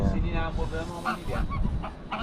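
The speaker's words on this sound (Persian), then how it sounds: "تعدادی مرغابی رو مشاهده میکنیم یا همون آردک که داخل آب دارن خودشون رو تمیز میکنن" Ducks on water, a series of nasal honking calls over a rough, busy background, with several calls close together at moderate loudness.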